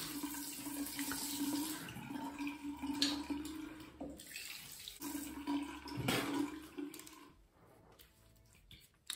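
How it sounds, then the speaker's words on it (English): Cold tap water runs and splashes as a face is rinsed at a bathroom sink during a wet shave, a steady close stream with intermittent splashing pauses. "So I'm just gonna rinse my face with nice cold water."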